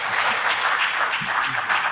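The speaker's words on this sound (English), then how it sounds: "Please another round of applause for Prince Uche Seondus" A crowd applauds at a Nigerian political gathering honouring a former national chairman of the People's Democratic Party, a dense, steady wash of clapping that holds evenly for the whole stretch with no voices over it.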